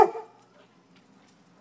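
A dog gives one sharp, loud bark close by, excited by a neighborhood dog, and the bark quickly fades into near silence.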